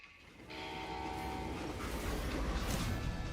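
A train in the Western video game Call of Juarez: Gunslinger rumbles along steadily with a horn-like tone, growing slightly louder as it continues, with no voices.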